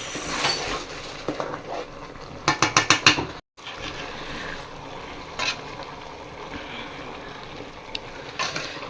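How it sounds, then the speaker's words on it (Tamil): Paneer biryani stirred in a steaming pot, with a quick run of rattling, clicking scrapes from the utensil over a steady background hiss, then quieter scattered scrapes. "கலந்து விட்டுக்கலாம் பன்னீர் போட்டு."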